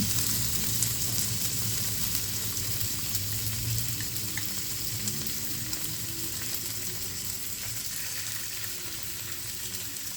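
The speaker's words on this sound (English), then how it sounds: "Grill them in a hot pan." Seafood and tentacles sizzle and crackle steadily in a hot pan, a constant bright hiss with no talking over it.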